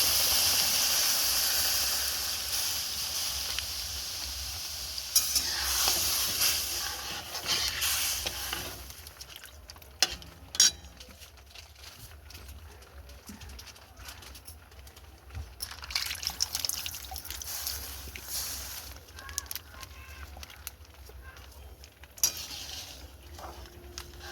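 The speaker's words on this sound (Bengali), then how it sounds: "এবার দিয়ে দেবো লিকুইড দুধটা। দুধটা দিয়ে দিলাম।" Liquid milk poured into a pot of simmering rice payesh made with shimui rice, a soft steady hiss and splash of liquid with faint stirring, continuing close by with no talk.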